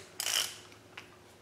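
A torque wrench tightening timing bolts on a V-8 engine, with one short ratcheting clicks burst followed by a faint single click, close and alone.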